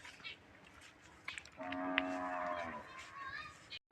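A buffalo at a livestock sale lets out one drawn-out moo of about a second, fairly close, amid quiet background murmur.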